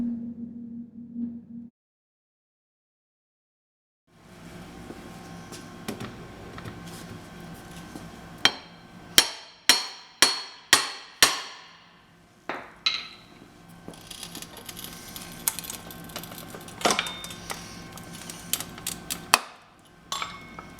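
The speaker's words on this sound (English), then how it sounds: "we have to set the tool by striking it here" A series of sharp metallic strikes from a forcible entry tool on a vinyl double-hung window, several rapid hits in a row, followed by scraping and clinking; no talking.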